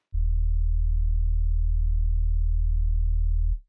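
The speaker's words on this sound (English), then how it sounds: "you can now hear the second harmonic, which plays at 80 hertz" An 808 sine tone with an added second harmonic at 80 hertz plays as a deep, pure sustained bass note, starting and stopping cleanly and holding at a steady loud level throughout.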